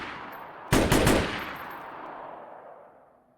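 M1 Garand battle rifle firing in a modded Fallout New Vegas game, two sharp close shots in quick succession followed by a long rolling echo that fades over a few seconds.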